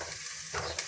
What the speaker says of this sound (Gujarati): રાઈ જીરાનો વઘાર।